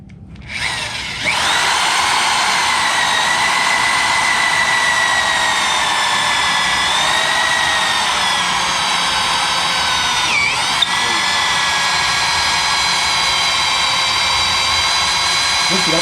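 A loud, steady high-pitched whine of a magnetic drill biting into steel, running continuously up close with slight pitch shifts.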